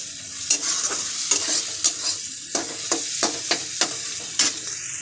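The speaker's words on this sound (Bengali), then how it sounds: "ডিমটা দেওয়ার পরে ভালো করে নাড়িয়ে চাড়িয়ে মশলাটার সাথে ভালো করে এখন একটুখানি কষবো" Egg being stirred and fried with masala in a pan for Bengali egg tarka: a close sizzle punctuated by a quick run of sharp spatula scrapes and taps in an uneven rhythm, with no voices.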